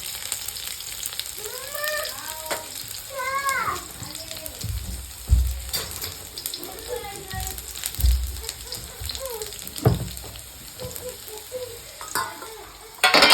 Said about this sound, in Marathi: त्याच्यामध्ये टाकतो आपण लसूण टाकलेलं बारीक बारीक पीस केले ते